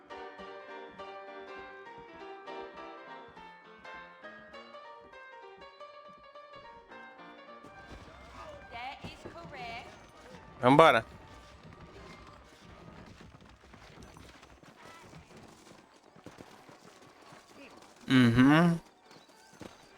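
Horse hooves clip-clop and thud in the video game Red Dead Redemption, following a stretch of soft music. Someone talks over it, and two sudden loud bursts cut through.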